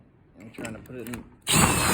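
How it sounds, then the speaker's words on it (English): A power drill whirs in short bursts and then runs loud and steady while driving screws into lined-up holes, close up. "all the time that I spend drilling holes"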